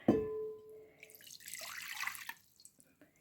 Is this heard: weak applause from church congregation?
no